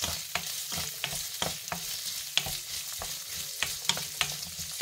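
Carrots and broccoli stalks stir-frying in a pan for pansit, with steady sizzling and repeated scraping stirs of a utensil, close and moderately loud, no voices.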